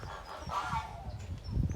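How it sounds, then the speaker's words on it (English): Backyard geese honk back and forth in a short squabble, fairly close, with rough overlapping calls over low ambient noise. "The geese are arguing between each other."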